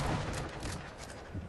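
Rapid bursts of gunfire from the video game Sniper Elite V2, dense overlapping shots filling a short, loud stretch with no clear gaps between reports.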